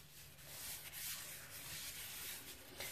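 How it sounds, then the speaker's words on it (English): A towel soaked in bacon grease rubs steadily across a cast iron pan, making a continuous soft scraping swish close by. "I've got my bacon grease on my towel or on my napkin, and we're gonna give her a rub."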